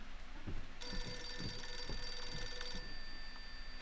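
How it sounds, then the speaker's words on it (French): Telephone ringing in the horror video game Visage: a bright electronic bell tone sounds for about two seconds, then stops, over a low ambient hum with soft footsteps or thuds. "Je déteste les téléphones dans les jeux."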